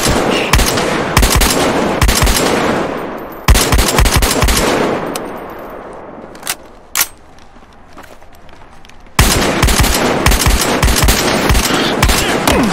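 Close, loud bursts of automatic gunfire from the video game Battlefield Hardline come in rapid volleys, break off into a short lull with a few single shots and clanks, then the sustained firing resumes.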